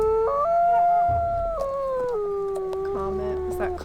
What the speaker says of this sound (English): Was that Comet howling over there